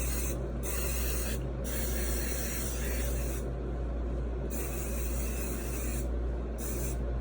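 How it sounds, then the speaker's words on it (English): Session Spray Flex hairspray sprayed onto hair, a long continuous aerosol hiss close to the mic, broken by a few brief pauses between bursts. "I spray myself down with the Session Spray Flex"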